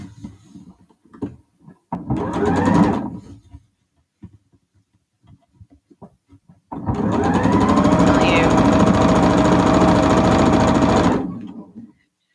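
Close sewing machine stitching quilt block seams, first a short burst of about two seconds, then a longer steady whirring run of about four seconds, with someone talking briefly between runs.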